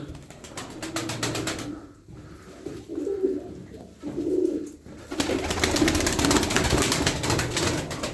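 Tumbler pigeons coo in soft repeated bursts, with brief quiet gaps between calls before a denser rush of sound takes over.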